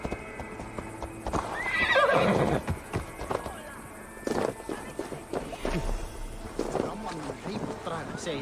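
A horse in the video game Assassin's Creed Valhalla gives a loud, close whinny, and rhythmic hoofbeats clop on under ambient game sound, with a voice speaking briefly.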